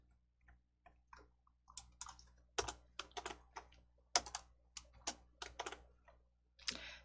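Sparse, irregular clicks of a computer mouse and keys, close and fairly crisp, sounding in short bursts with pauses as blocks are built in the Entry coding tool.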